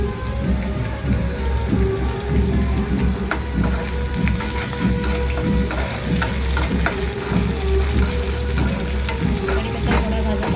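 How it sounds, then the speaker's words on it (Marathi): Chopped onion and curry leaves frying in oil in a pan, a steady dense sizzle with crackling pops throughout, loud and close. "आता आपण कांदा आणि तेल ह्याच्यामध्ये पॅनमध्ये टाकलेलं आहे। आता कांदा भाजत येत आहे"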